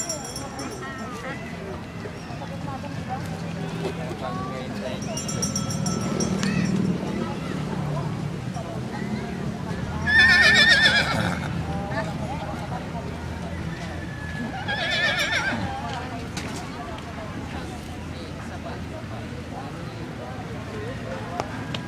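Horses neigh loudly twice and hooves clip-clop during horse riding in Baguio City, amid outdoor crowd noise and people talking throughout.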